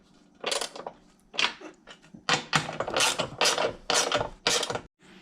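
Bolts on a Tesla Model 3 tow hitch are tightened with a ratchet in a series of close, loud bursts of rapid clicking, each burst a few tenths of a second to half a second long, separated by short pauses.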